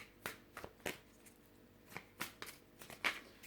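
A deck of tarot cards being reshuffled by hand, a series of soft, quick riffling bursts and taps at irregular intervals, close and fairly quiet.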